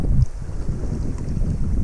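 Strong wind buffets the microphone at a rough, windy seaside fishing spot, a continuous low rumbling roar with gusty surges throughout and no voices.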